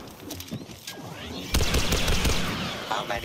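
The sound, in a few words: gunfire in video game Star Wars Battlefront II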